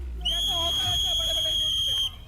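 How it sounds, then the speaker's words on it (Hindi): A referee's whistle blows one long, loud, steady blast lasting about two seconds to end a competition task, with faint crowd babble and voices underneath. "और ये रेफरी की सीटी।"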